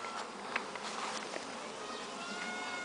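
Honeybees buzz at a hive on a farm as a colony prepares to move out, a dense, continuous hum filling the air close by, steady and moderately loud with no voices.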